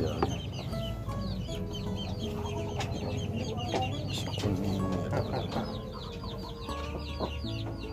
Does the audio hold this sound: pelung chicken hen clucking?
yes